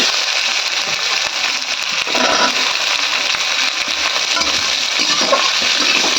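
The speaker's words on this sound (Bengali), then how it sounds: "এগুলোকে মা লাল লাল করে ভাজি করে নেবে" Chopped green chilies and onions fry in hot oil, a loud, dense, close-up crackling sizzle running continuously as they are stirred around the pan.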